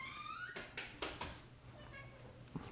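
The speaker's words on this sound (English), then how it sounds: "There's a lot of door sounds." A cat meows briefly, then several dull knocks and clunks follow, like a door being opened and shut nearby, with faint room hum underneath.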